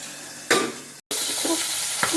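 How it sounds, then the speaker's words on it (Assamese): Tangy fish curry bubbles hard in a pan while being stirred, giving a soft sizzling hiss broken by a few sharper scraping stirs and a brief pause. "খুব ফুটিছে মাছকেইখন মই লৰাই দিছোঁ"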